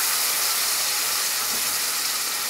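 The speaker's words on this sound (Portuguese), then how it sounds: "vou deixar refogar um pouco para pegar o gosto dos temperos" Ready-made sauce sautéing in a pan for a meatless bolognese produces a loud, steady, broadband sizzle and hiss that continues unbroken.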